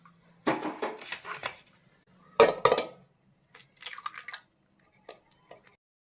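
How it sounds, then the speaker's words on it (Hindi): Four eggs cracked one after another into a bowl for a carrot cake batter, with sharp shell taps and clinks against the bowl's rim and soft wet splats, arriving in short clustered bursts with quiet gaps between them. "ये चार अदद अंडे हैं, इनको मैं तोड़ लूँगा"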